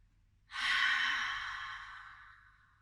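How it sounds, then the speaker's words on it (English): A single long yoga breath released through the mouth, a soft, airy exhale that swells quickly and then fades slowly over a couple of seconds, alone and close. "Breathing in through the nose and out through the mouth."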